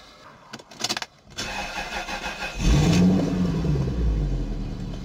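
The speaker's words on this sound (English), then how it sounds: "Let's start the car." A car engine, on a Toyota or Lexus, cranks with a few brief starter bursts, then catches and settles into a loud, steady idle close by.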